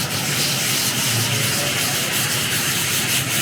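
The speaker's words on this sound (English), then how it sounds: "Circular motions keep the sandpaper from clogging up because you're dislodging everything that's getting stuck." Sandpaper worked in circles over a Porsche Cayenne body panel, a close, steady hissing rub with no pauses.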